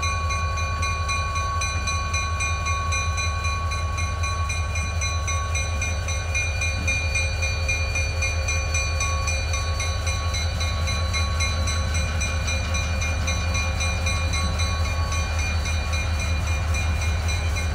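A freight train locomotive and cars at a quarry, a loud steady diesel engine drone with a deep rumble, idling close by and unbroken, no talk.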